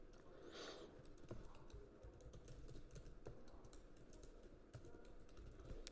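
Fingers type on a computer keyboard in quick, uneven bursts of soft clicks close by, with a low room hum behind them and no speech.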